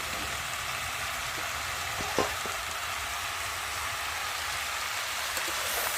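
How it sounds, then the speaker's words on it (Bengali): Food sizzles steadily in an uncovered pan, with a single sharp utensil knock partway through and faint scraping from stirring. "চলো ঢাকাটা খুলে একটু নেড়ে দিই।"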